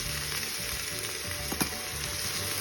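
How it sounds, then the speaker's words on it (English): Garlic and okra sauté together in an Instant Pot, a dense steady sizzle with a faint steady tone and one brief knock midway, no talking. "let them saute together again"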